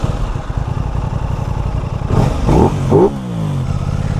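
An Aprilia RS660 sport motorcycle engine idles with a rapid throb, then revs sharply in several quick bursts, each pitch rising and falling back, loud and close.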